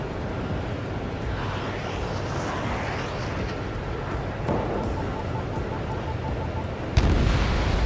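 An anti-air radar vehicle is destroyed in Ace Combat 7, a sudden booming blast breaking over a steady roar of jet engine and rumbling battle noise.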